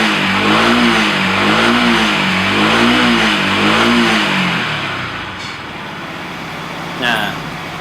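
Yamaha WR155 motorcycle engine revving up to around 7000 RPM, a loud wavering rise and fall in pitch for several seconds before dropping back toward idle, close up, with a brief clack near the end.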